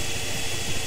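A gas-burning engine in the game Trails in the Sky runs with a loud, steady, broadband roar that holds constant throughout without pause.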